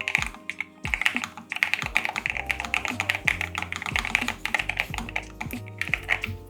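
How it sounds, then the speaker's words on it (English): Rapid typing on a low-pitched mechanical keyboard, a dense stream of deep, thocky key presses, close and clear, with no voices. "It sounds amazing. It's got that low pitch talk."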